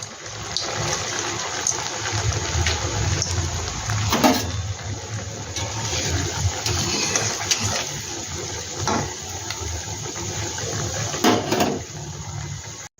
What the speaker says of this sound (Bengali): এগুলো কিন্তু একটু ধৈর্য নিয়ে বন্ধুরা আস্তে আস্তে ভাজতে হবে